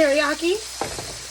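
Teriyaki sauce goes into a hot pan of frying shrimp, and a burst of sizzling and stirring follows right after a brief voice at the start.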